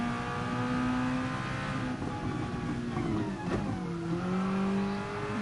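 A Red Bull junior race car works through two corners, its engine note droning steadily, dipping as the driver lifts and downshifts, then climbing again under power; the tone carries continuously with no talk.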